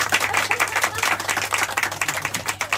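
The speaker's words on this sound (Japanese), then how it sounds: "キャンディーに大きな拍手お願いします。" A live show audience claps for a performer named Candy, producing a dense, steady wash of applause at moderate volume with faint voices underneath.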